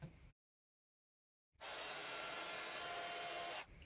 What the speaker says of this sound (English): And then that one I'm going to heat emboss in copper.